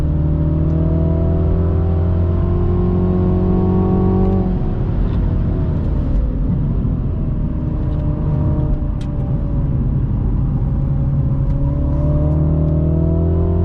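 A 2022 MINI Cooper JCW GP Edition hums steadily through corners from inside the cabin, engine drone loud and constant, with one audible gear change and the revs dipping and rising again.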